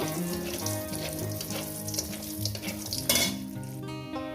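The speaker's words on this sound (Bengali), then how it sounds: "বড়িগুলো ভাজা হয়ে গেছে" Bori, small lentil dumplings, fry in oil in a pan for a fish curry. A continuous sizzle plays under background music, with a brief clatter of utensils near the end and no talking.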